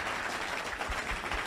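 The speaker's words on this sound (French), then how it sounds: "Mesdames et messieurs, je vous demande d'applaudir encore une fois nos 3 juges." An audience at a Caribbean Christmas singing contest applauds the three judges, a short burst of moderately distant, blended clapping that holds steady for the whole moment.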